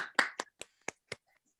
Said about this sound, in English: If everybody wants to unmute and either, do some snapping, some clapping, you're welcome to.